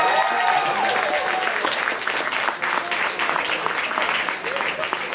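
Audience applause at a morning announcements gathering before a first concert, a steady wash of clapping from a crowd throughout, with some voices mixed in.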